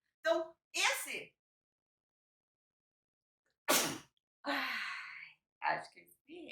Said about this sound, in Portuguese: acho que eu espirrei